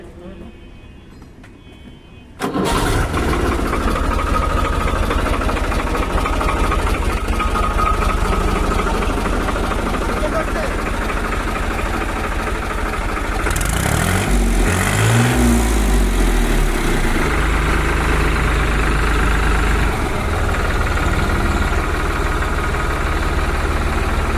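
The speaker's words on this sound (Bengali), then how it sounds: "এটা স্টার্ট সাউন্ড এই গাড়ির" A New Holland TT55 tractor, used for road hauling with about 3300 hours, cranks and catches after a couple of seconds, then settles into a loud steady diesel idle with a brief rev in the middle, heard close up.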